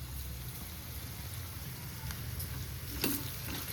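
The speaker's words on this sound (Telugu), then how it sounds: "మగ్గాలి, ఉల్లిపాయ బాగా మగ్గాలి." Onions frying in a pan at home, a steady soft sizzle and crackle running throughout with a brief louder spatter near the end, no voices.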